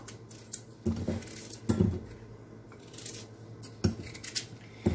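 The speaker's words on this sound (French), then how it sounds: "on va couper les pommes de terre en morceaux" A knife cutting potatoes into pieces on a board, with scattered crisp chopping strokes and clunks that come in small bursts, at close range, with no one talking.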